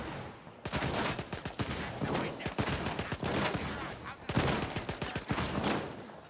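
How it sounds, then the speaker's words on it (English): Dense shotgun fire in the video game Stalker 2 comes in rapid, overlapping bursts that stay loud for most of the stretch, with a short quiet gap near the start and faint talk underneath. "Somebody in there with a shotgun is trying to shoot out,"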